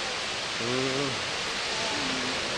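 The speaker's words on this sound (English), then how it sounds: "Waterfall." A waterfall at Tintagel on the Cornish coast makes a constant broadband roar, with a voice talking briefly over it.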